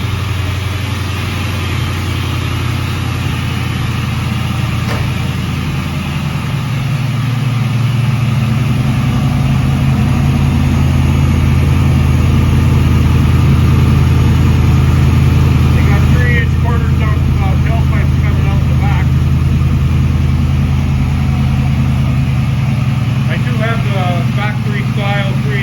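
An LS-swapped 1981 Trans Am settles into a steady, low rumbling idle that holds throughout, close and loud, with someone talking over it.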